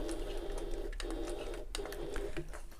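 A sewing machine runs steadily while back stitching around a bag handle, with short whirring bursts broken by brief pauses at pivot points, close and continuous.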